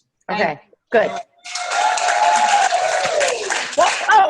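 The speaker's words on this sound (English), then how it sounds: "I thought we were on a sitcom and they just played the clapping tape" Canned applause playing as a sound effect, a loud sustained wash of clapping lasting a few seconds between short bursts of talking.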